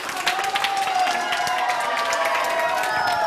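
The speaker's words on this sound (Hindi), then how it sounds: "तालियां।" A crowd claps and cheers continuously, dense and steady, with a few voices rising over the applause.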